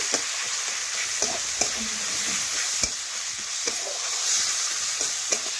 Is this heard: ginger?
yes